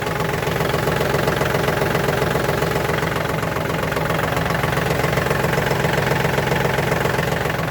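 A Kubota L1 245 compact tractor in good condition, with about 700 engine hours, idles in neutral, a steady close diesel rumble with an even knocking pulse and no talk.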